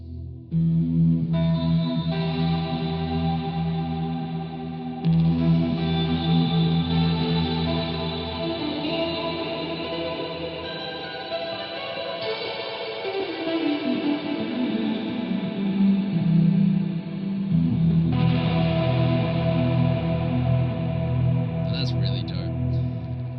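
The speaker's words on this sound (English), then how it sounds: "I'm just going to add a little bit of reverb." An electric guitar plays through a pedalboard with boost and reverb effects, sustained chords and shifting notes ringing out with a lush, echoing tail that stays continuous and fairly loud, with no talking.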